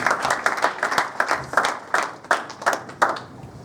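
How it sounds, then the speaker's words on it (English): An audience claps in a burst of applause, with individual hand claps distinct and uneven, moderately close, fading slightly toward the end with a faint murmur underneath. "please give him a round of applause"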